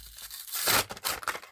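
Pokémon card tripack plastic packaging is torn open by hand without scissors, a close, crinkly rip in a few quick pulls lasting about a second.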